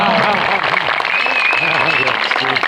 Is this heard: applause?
yes